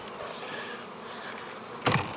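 Honey bees buzz around a nuc hive outdoors, a dense continuous drone of many wings close by, with a louder pass swelling near the end.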